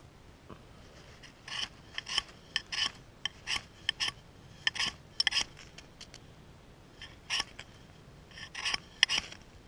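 Fine flammable tinder is scraped by hand at a creekside camp, giving short rasping strokes in irregular bursts, close and clear against a quiet background.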